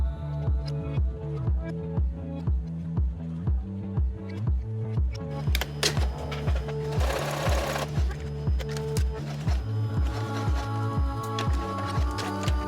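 A sewing machine runs basting stitches on a dress in a steady, rapid rhythmic chatter of needle strokes, close and moderately loud, with a brief pause and a rustle of fabric midway.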